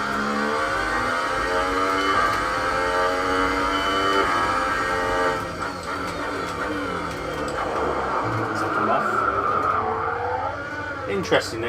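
An F1 2018 race car on Xbox One spins out, its engine whining through shifting revs as the tyres squeal and skid, loud and continuous before the engine note settles and climbs again.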